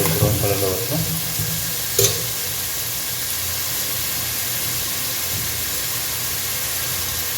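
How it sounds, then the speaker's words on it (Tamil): Green chillies fry in hot oil for a fish curry, a steady close sizzle with a few stirring clatters at the start. "அது கொஞ்சம் ஃப்ரை ஆகட்டும் எண்ணெயிலே"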